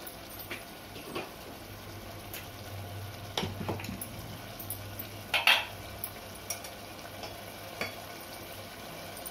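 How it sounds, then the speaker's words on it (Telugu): Cooked rice is stirred into fried chicken in a sizzling pot for biryani: a soft continuous fry runs underneath, and close clinks and scrapes of a spoon against the pot come through, with no talking. "ముందు ఉడికించుకున్న రైస్ ఇందులో కలిపేసుకోవాలి."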